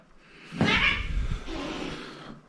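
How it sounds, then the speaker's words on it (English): A cat fight on a farm: one sharp, loud yowling cry followed by a lower drawn-out growl, close by and heard on its own. "And we got a cat fight."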